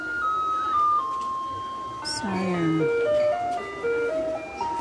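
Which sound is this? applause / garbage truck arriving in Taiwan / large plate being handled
garbage truck arriving in Taiwan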